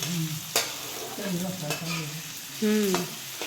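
Pumpkin stir-fried in freshly heated oil sizzles steadily, with close scraping stirs and a few sharp spatula knocks against the pan.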